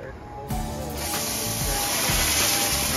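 A steady, loud hiss of water spraying from a fire sprinkler head starts abruptly and continues, with faint low thumps underneath.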